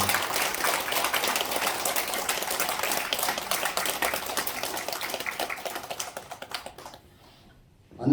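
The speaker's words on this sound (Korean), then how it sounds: "큰 박수로 안내해주시면 감사하겠습니다" Dense audience applause at a Buddhist ritual lecture, many hands clapping steadily before thinning out and stopping near the end.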